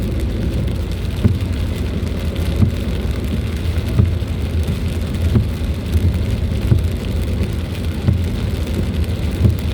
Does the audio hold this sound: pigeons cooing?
no